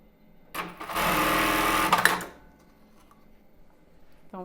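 A sewing machine runs in one loud burst of about a second and a half, stitching an embroidered tulle bra, then stops abruptly and leaves quiet handling noises.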